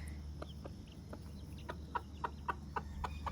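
Hens and chicks on a homestead cluck softly in a short, irregular series of calls over a low steady background hum, fairly faint and at a moderate distance, with no talking.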